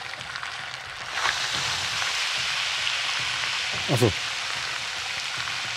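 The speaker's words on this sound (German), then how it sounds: "Was für Fische an Öl frittieren?" Steady sizzle of fish deep-frying in oil in the game Dave the Diver, a constant bright crackle throughout with a brief spoken word near the end.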